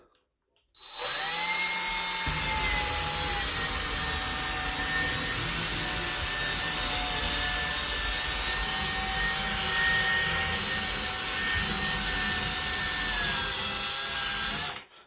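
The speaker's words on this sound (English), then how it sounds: "we're gonna come back with the brush and hit it" A power scrubber brush whirs against tile grout, switching on abruptly into a steady high-pitched motor whine that holds evenly and then cuts off.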